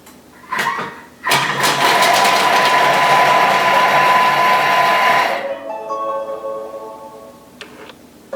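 Thermomix TM6 chopping onion at speed 5, a loud whirring motor burst lasting about four seconds with a sharp start and a winding-down tail, near and alone.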